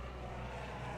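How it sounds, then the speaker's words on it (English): A propeller plane flies over a lake, heard as a faint, steady low drone with no speech. "That's a prop plane."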